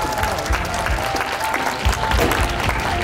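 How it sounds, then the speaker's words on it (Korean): Applause at the opening ceremony of the Gimhae Biennale in a cultural arts hall, as an audience claps steadily for introduced guests, sustained and fairly loud with faint voices underneath. "큰 박수 부탁드립니다."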